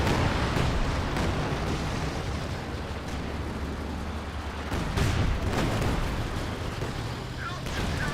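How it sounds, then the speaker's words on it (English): A concentrated artillery barrage in Company of Heroes 2 rumbles on continuously as dense, overlapping explosions and booming impacts under a constant wash of battle noise, with a commentator talking over it. "We have concentration barrage there."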